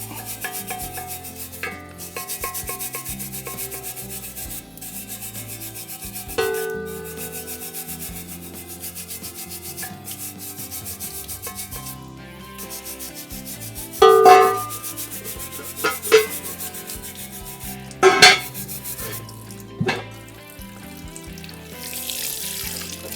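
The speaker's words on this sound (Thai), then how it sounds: "ใช้ แปรงทองเหลืองช่วยแล้วก็เช็ด" Brass brush scrubbing the surface of a Buddha statue in the crevices of its toes and fingers during cleaning, rhythmic rasping strokes with wet dripping and tap-water sounds, louder bursts of scrubbing in the middle.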